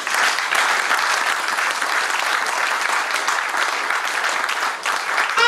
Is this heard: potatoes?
no